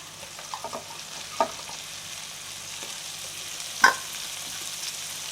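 Broccoli and spring onion frying in a pan with a faint, quiet sizzle, broken by a few soft clinks and stirring scrapes of a utensil.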